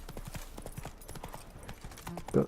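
Rapid hoofbeats clop in a quick rhythm, a horse trotting in the video game The Witcher 3: Wild Hunt, with a short snorting or whinny-like sound near the end.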